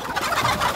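Poultry in a farm coop squawk and cluck in agitation while being chased for slaughter, a dense, continuous burst of bird calls close by with no talk.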